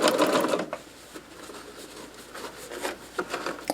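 A sewing machine stitches through fabric filled with rice, opening with a loud burst of rapid stitching, then quieter intermittent running and mechanical clicks, close by and with no talk.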